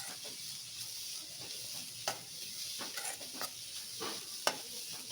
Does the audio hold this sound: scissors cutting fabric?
no